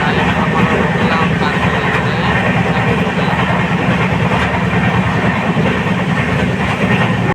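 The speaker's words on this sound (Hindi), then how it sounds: "तो हमारी ट्रेन अभी पार करते हुए चलथान रेलवे स्टेशन अपनी फर्स्ट स्टॉपेज।" Passenger train on the Udhna to Jaynagar special route running through Chalthan railway station, a loud, steady rumble with rail clatter heard from on board, continuous throughout, with voices mixed in.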